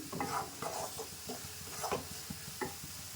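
Grated coconut is roasted in coconut oil while a spoon scrapes and stirs it in the pan, giving several soft, uneven scraping strokes over a faint, low sizzle.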